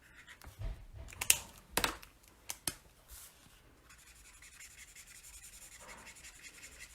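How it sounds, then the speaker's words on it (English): A blending tool scrubbing ink onto a paper card, heard as close, soft rubbing strokes with a few sharper scratchy bursts early on, then a faint steady brushing texture. "I call it scrubbing. It's just like you're scrubbing."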